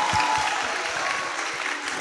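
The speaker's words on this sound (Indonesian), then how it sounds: "Ayo kasih tepuk tangan dong buat temennya dong" An audience at a student orientation program on national defence education applauds a participant called forward, a brief, dense burst of clapping from a crowd, steady and fairly loud from start to end without voices.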